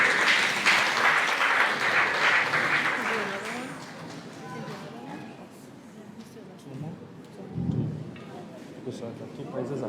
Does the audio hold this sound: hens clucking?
no